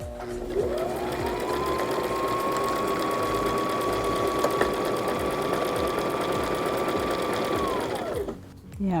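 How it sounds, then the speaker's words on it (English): A sewing machine with a buttonhole foot stitches a buttonhole for a school uniform, a steady, close, continuous whir with a rising whine running for about eight seconds before it stops abruptly. "I'll make a buttonhole and show you."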